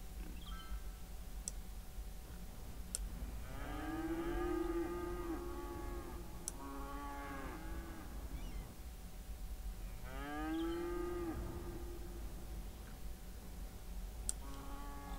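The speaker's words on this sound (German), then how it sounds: "Da unsere Highland-Kühe." Highland cattle mooing in the city-building game Cities Skylines, two long drawn-out moos a few seconds apart over a quiet ambient bed with sparse clicks.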